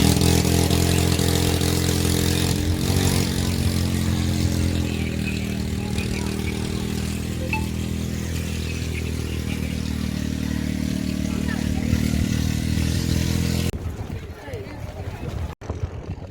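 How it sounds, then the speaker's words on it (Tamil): Loud engine drone of motorcycles riding steadily close by on a beach, with a voice talking over it; the noise cuts off abruptly near the end. "பீச்சில் அழகாக பைக் ஓட்டிகிட்டு போகிறாங்க பாருங்கள்"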